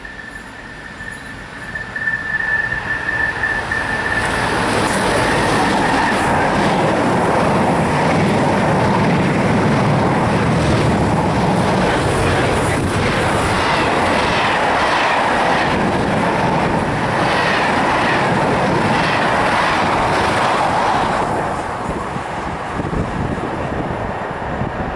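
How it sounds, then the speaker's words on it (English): A non-stopping train races through a station platform at Eastleigh, a loud sustained rushing roar with rattling wheels that swells within a couple of seconds and holds for most of the clip before easing slightly. "The approaching train is not scheduled to stop at this station."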